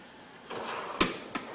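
A metal tool chest drawer holding cutting tools such as diagonal pliers slides with a soft rolling rush, then bumps shut with a sharp knock and a lighter follow-up tap, close and fairly quiet.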